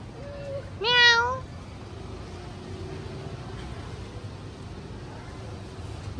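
A stray cat under a residential building gives one clear, rising meow, loud and close, then quiet follows with low background hum.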